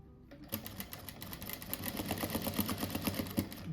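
A sewing machine stitches a fabric rug with pointed triangular edges, a fast steady mechanical chatter of needle strokes running close and continuous throughout.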